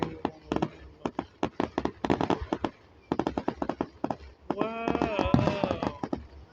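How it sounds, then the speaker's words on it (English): Pyrotechnic fireworks going off in quick bursts of sharp crackling pops, clustered in rapid rhythmic volleys, with a voice calling out partway through. "Someone's firing off Cody Rhodes' entrance to me"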